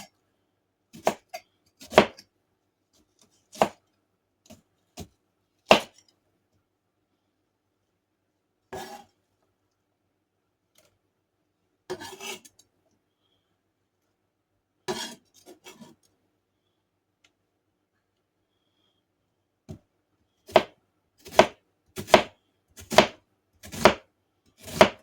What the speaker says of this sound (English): Now you can slice your onions as thin or as thick as you want to.